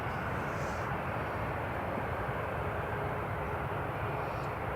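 Logan Air aircraft taxiing at Newcastle Airport, a steady distant engine roar and whine that holds constant throughout, moderately faint with no talk.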